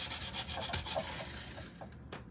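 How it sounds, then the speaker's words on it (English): Wood edges sanded by hand, a steady close scratchy rubbing in quick back-and-forth strokes, heard alone for a couple of seconds. "So I've sanded it, and here I haven't on this side."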